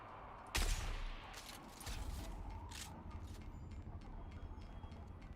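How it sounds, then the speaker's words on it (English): Gunfire aimed at the player in Dune Awakening: a sharp nearby shot, then further cracks and distant pops over windy outdoor ambience. "I think that person up there is taking shots at me."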